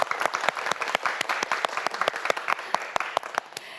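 Studio audience applause on a Korean science quiz show, a steady stream of crisp claps from a group that holds its pace and then thins out near the end.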